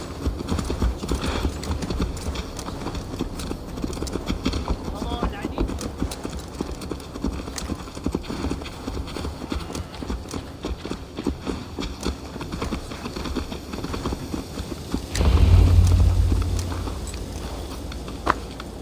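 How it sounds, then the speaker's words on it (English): A horse in Assassin's Creed Valhalla clip-clops steadily at a brisk, even gait for a long stretch, the hooves close and clear, followed near the end by a brief low rumble and a slowing of the steps. "Let's return the horse"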